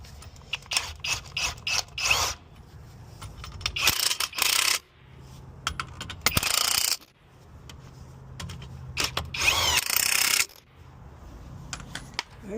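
A ratchet tightens bolts on a junkyard BMW engine, giving bursts of rapid, close clicking that start and stop repeatedly, loud and with no talk over it.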